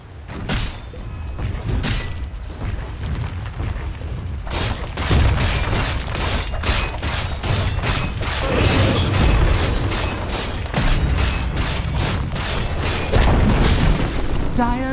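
Dire's middle tower under attack in Dota 2, a continuous barrage of loud rhythmic impacts and bursts in a busy battle soundscape that pounds steadily for the whole stretch.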